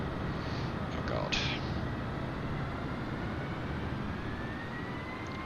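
An aircraft engine drones steadily in Microsoft Flight Simulator while flying into a hurricane, a continuous loud roar with a faint rising whine and a brief higher burst, under a person talking.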